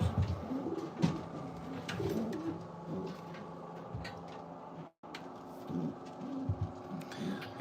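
Racing pigeons coo in a breeder stall, a low soft burbling that repeats and overlaps from several birds, with light rustling, a few sharp knocks and a brief dropout partway through.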